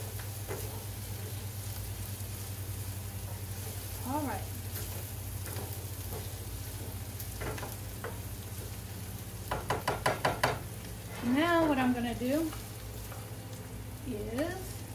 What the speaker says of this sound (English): We'll saute some parsley in there too.